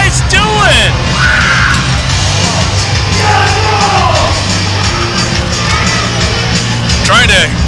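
A wrestling arena crowd roars, yells and whoops in a dense, continuous wall of noise, with individual shouts rising and falling above the din for several seconds.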